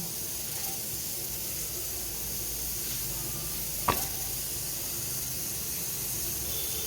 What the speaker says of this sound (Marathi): आता पराठा आपण तव्यामध्ये टाकला आहे आता त्याला खूप छान पद्धतीनं आपण भाजून घेऊ